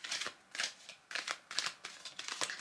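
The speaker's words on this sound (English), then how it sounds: "So I'm just going to give these a bit of a shuffle." A deck of cards is shuffled by hand in a quiet room, giving several short riffling bursts in an uneven rhythm, close and moderately loud with no talk.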